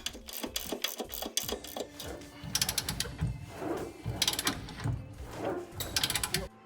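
Ratcheting wrench clicking in quick bursts while tightening nuts on lowering blocks fitted to a Toyota pickup truck, close and fairly loud, with short pauses between runs of clicks.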